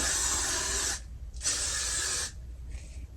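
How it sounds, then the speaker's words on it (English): Two long hissing bursts from an aerosol hairspray can, a short pause between them, then a fainter brief spray. "And then just spray it all."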